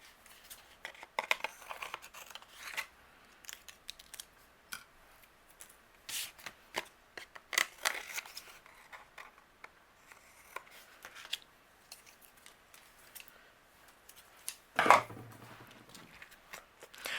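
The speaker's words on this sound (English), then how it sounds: "Anything that's overhanging, I'm going to flip it around and I'm going to trim away." Scissors snip away overhanging patterned paper at the edge of a handmade Thanksgiving card, giving soft, scattered cuts and rustles with a sharper crisp snip near the end; close and quiet, with no talking.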